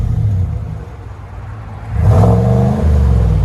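GMC Sierra 6.2L V8 exhaust revving, throaty and deep: a steady low idle rumble that rises in a loud rev near the two-second mark and holds at higher pitch, close and without talk.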